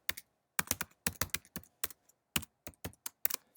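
Someone types a login email on a computer keyboard, with short bursts of crisp key clicks separated by brief pauses, close and quiet with no voices.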